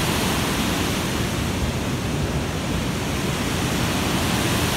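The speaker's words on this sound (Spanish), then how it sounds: "si se dan cuenta, el río está bien crecido, las corrientes están muy fuertes." The swollen Dolores River near Cobán, Guatemala, in October, running with strong currents beneath a hammock bridge: a loud, steady, broadband roar of rushing water, continuous and close, with no voices.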